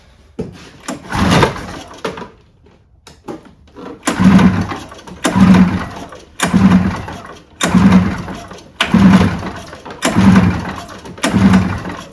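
Repeated pull-start attempts on a 1986 Arctic Cat El Tigre 6000 snowmobile two-stroke engine that will not fire. There is a single early pull, then six rhythmic ratcheting cranks, each one loud and close, separated by short pauses.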